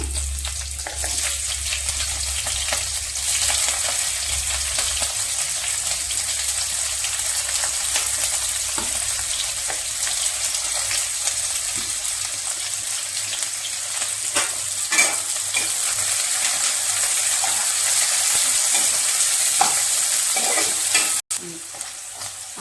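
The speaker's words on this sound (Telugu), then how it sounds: "ఆనియన్ బాగా వేయించుకోవాలండి" Onions fry with cloves, cardamom and a cinnamon stick in a pan, giving a steady close sizzle with occasional stirring scrapes, continuous and fairly loud throughout.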